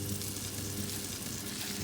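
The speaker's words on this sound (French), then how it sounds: "Les côtes de veau, on va les saisir au beurre" Veal chops searing in hot butter, a dense, steady sizzle and hiss throughout, moderately loud and close, with no voices.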